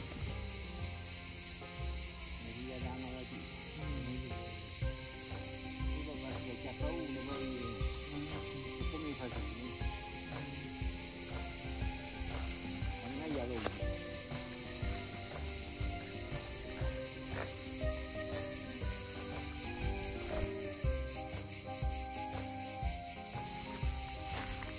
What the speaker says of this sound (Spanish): El sonido de fondo es el sonido del verano aquí en Italia, las cigarras.